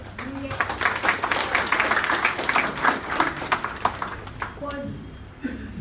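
An audience at an anchoring skills workshop with an actress breaks into steady, dense applause lasting several seconds, with a voice speaking over the clapping.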